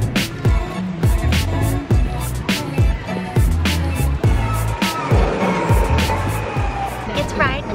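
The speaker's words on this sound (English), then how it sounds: "It's riding the golf cart to dinner." A golf cart carries riders to dinner, its motor humming under a steady rhythm of bumps and rattles as it rolls along.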